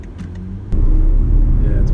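The engine of a 2019 BMW X3 sDrive30i in sport mode, holding its gear, heard from inside the cabin as a low rumble that swells suddenly and stays loud and steady, with a voice talking over it.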